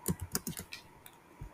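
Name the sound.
typing a Gemini API key on a keyboard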